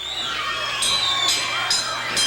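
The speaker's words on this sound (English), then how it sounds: "The fans are standing, yelling, cheering." A wrestling arena crowd cheers and yells in a dense, continuous roar, with sharp shouts and whistles bursting out every half second or so.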